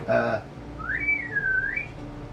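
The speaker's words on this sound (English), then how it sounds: "He whistles, obviously." A single person whistles one clear, close tune: a rising note that dips and lifts again, heard over faint background ambience after a brief burst of sound at the start.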